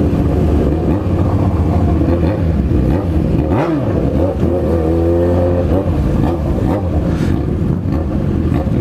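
A motorcycle engine revs up and down near the listener, with a rising and falling whine and a louder pass in the middle over steady road rumble.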